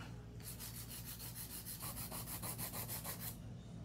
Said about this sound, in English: I wanna kinda smooth and bring the acrylic out a little bit.